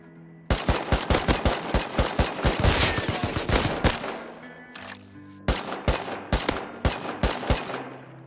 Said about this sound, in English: Suppressed AK.